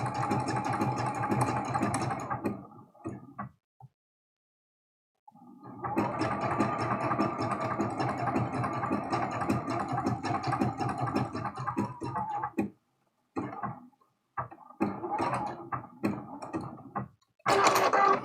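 A sewing machine runs a blanket stitch on a quilt block, steady mechanical whirring in long runs broken by pauses and short stop-start bursts near the end.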